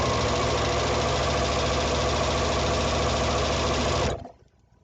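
A sewing machine stitches a fabric tube in one steady, fast, close mechanical run for about four seconds, then stops abruptly, leaving near quiet.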